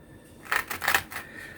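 A knife saws through the crusty bread of an antipasto sub in two or three short, close, crackling strokes.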